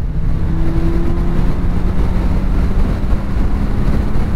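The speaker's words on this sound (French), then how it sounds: "Petit test de reprise en 6ème" A 2017 BMW K1600 bagger motorcycle pulls hard in sixth gear from 110 km/h. The engine hums steadily and loudly beneath heavy, constant wind rush, its pitch climbing slightly as speed builds, and no one talks.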